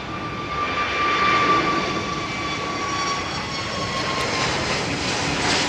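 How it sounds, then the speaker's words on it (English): Airbus A380 jets of BA and Emirates departing runway 27R at London Heathrow, a steady broad engine roar with a high whine, held loud and fairly near throughout without a break. "we've got two 380s coming out, folks, to close off departures, I think. BA and Emirates."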